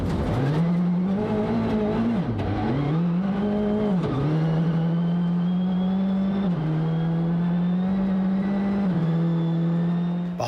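A rally car on MRF tyres at the International Rally of Whangarei powers hard through gears, its engine note climbing and dropping with sharp shifts every couple of seconds, loud and close with no voices.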